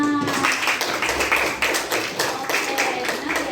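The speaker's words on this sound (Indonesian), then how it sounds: "Wah, tepuk tangan." A group in a classroom session claps briefly, a quick scatter of hand claps that tapers off, with a voice audible in the background.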